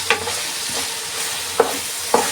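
Chicken giblets being stirred in a frying pan, a steady sizzle underneath with a few sharp scraping strokes of the spoon, close and moderately loud, no voices.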